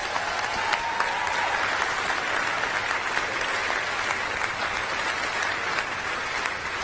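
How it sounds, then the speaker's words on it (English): Audience at a celebration show giving a sustained round of applause, a dense, even wash of many hands clapping with scattered cheers, continuing unbroken for several seconds. "Please give them a round of applause"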